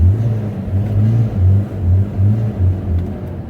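A BMW 318i engine revs up and down in a series of rhythmic low rumbling pulses, loud and close, with no talking over it.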